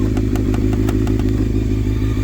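A 2002 Honda CBR600 F4i inline-four idles steadily at close range after a cam chain tensioner install, giving an even low rumble with a faint ticking clatter and no speech.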